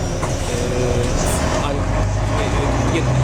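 Steady rumbling engine and road noise inside a moving bus, continuous and close, with someone talking over it.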